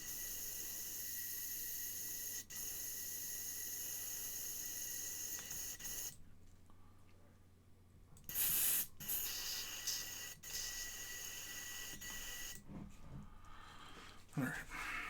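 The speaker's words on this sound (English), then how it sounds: "Airbrushing." An airbrush sprays paint onto a Funko Pop Warhammer 40,000 Intercessor figure, a close, steady hiss broken by short pauses and quieter gaps, with bursts of handling noise in between.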